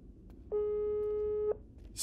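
One steady electronic tone rings for about a second in a video game as a phone call goes unanswered. It sits clearly above faint background noise.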